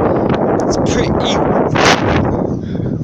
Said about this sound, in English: Sorry about the wind if you can hear the wind.